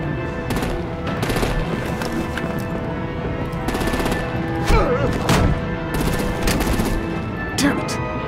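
Artillery and rapid machine-gun fire in Batman: The Enemy Within rattle continuously with repeated heavy bursts and booms in a chaotic battle, with voices faintly mixed in.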